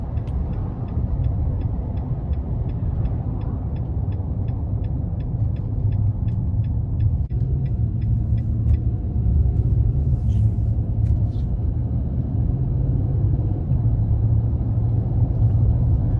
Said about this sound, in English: it's definitely an aggressive looking truck and an aggressive sounding truck, but it's not overly loud